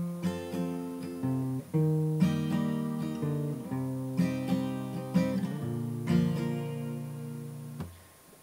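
Chords of a song are plucked on an acoustic guitar, played solo and close. Ringing picked notes move through several chord shapes, with each new shape starting on a soft attack and the notes fading out at the end.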